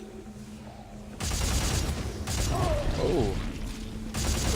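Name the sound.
rocket launcher firing in Dead Space 3 video game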